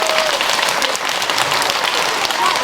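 A school audience applauds a guest author's story character, Sunset, with dense, steady clapping that fills the whole stretch at close range and stays at an even level.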